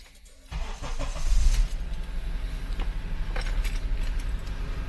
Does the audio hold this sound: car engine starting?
yes